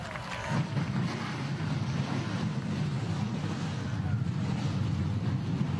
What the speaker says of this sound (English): The engines are fired, and we are just about ready to go for the K&N 175 here at New Smyrna Speedway.